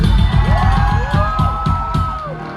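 A concert crowd at The Lodge Room in Highland Park, Los Angeles, cheers loudly with whoops, rising whistles and shouts over rapid clapping, a dense, close burst that fades slightly at the end.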